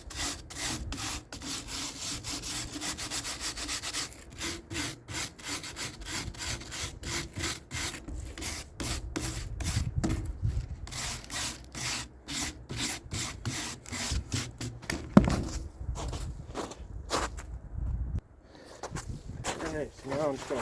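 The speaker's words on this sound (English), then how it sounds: "Just a little wire brush." A small wire brush scrubs a handmade wooden snowshoe frame in quick, repeated rasping strokes, a steady rhythmic scratching that runs throughout up close, with a short pause near the end.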